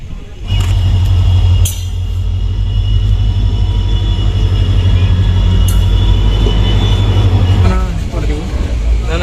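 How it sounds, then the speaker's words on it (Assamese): A train pulls into a railway station with a loud, steady low rumble of wheels and carriages, broken by brief sharp squeals and clanks, before easing off near the end. "এইখন ট্ৰেইন আহি সোমালেহি"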